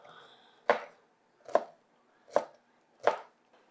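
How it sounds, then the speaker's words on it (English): Knife chops through ingredients for a no-mayo tuna salad on a cutting board, four sharp, evenly spaced thuds close by with quiet gaps between. "So I'm going to go through the ribs here and just kind of cut through them so we can get some small dices going through."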